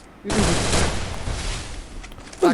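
A loud, rapid burst of automatic gunfire fills a shooting video game for about two seconds and then cuts off, with brief bits of a player's voice at the start and end.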